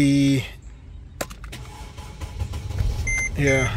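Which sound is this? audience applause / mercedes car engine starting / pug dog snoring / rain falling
mercedes car engine starting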